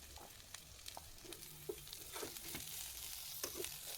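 Green beans, carrot and cauliflower sautéing in a pan: a steady sizzle runs throughout, broken by scattered scraping clicks of stirring.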